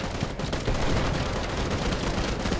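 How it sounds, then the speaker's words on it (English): Dense, sustained rapid gunfire from a street fight in the Gangstar New Orleans video game, loud and continuous with overlapping bursts and no talk over it. "Firing guns in the street."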